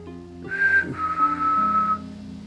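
A person whistles two clear notes, a short high one followed by a longer sustained tone, close and fairly soft.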